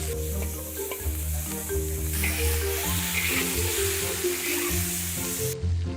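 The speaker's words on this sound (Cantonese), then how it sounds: "倒入魚肉翻炒" Fish meat with garlic and ginger shreds stir-fried in a hot wok, a loud continuous sizzle with stirring scrapes and music underneath.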